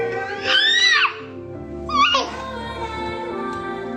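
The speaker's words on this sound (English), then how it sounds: "she doesn't want her infant child to scream" An infant screams in two shrill, wavering bursts, the first drawn out and the second shorter, loud and close, with quieter background noise in between.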